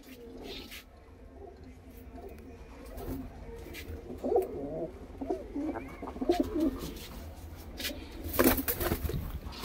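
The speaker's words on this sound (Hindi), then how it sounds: "प्योर पंजाबी कबूतर है।" Punjabi pigeons coo in low, throaty bursts that grow busier halfway through, over a steady background hum with occasional sharp knocks and faint talk nearby.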